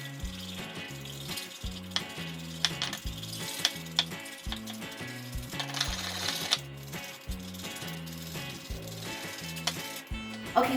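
Raspberries pressed against a metal strainer with a spoon to push the juice through, sped up into a rapid, regular scraping and squishing rhythm, close and busy, with no talk.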